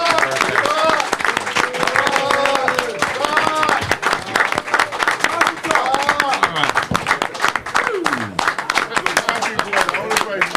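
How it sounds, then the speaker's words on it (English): A studio audience applauds during a radio show launch, with brisk, dense clapping running the full length while several people talk and call out over it. "Let's give Rock a round of applause."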